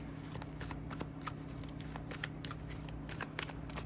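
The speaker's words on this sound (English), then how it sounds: "I'm going to go ahead and end this reading with a couple of Green Witch Oracle cards" Green Witch Oracle cards being shuffled close up: quick, soft papery riffles and flicks repeating in an irregular rhythm over a quiet steady hum, with no talking.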